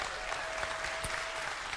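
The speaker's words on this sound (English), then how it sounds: "Now that should be worthy of applause" Church congregation applauding during a Sunday service, a steady wash of clapping hands sustained evenly throughout, moderately distant with no voices rising above it.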